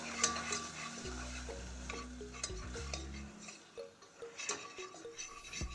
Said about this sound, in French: Je vais ajouter 2 cuillères à soupe de maïzena. Je mélange bien pour faire un rond.